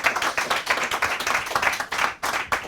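An audience applauding at the close of a disco house music session, with brisk, dense hand claps rising and falling in loose waves, fairly near and loud, and a brief lull before the clapping picks up again.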